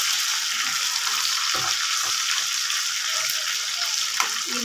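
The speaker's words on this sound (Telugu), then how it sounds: "ఇలా చూడండి, ఇలా ఫ్రై చేసుకోవాలి. గోల్డెన్ బ్రౌన్ అంత వచ్చేలాగా ఫ్రై అవ్వాలి." Prawns fry in hot oil for a prawn pickle, giving a steady, close sizzling hiss with occasional faint clinks and no voices.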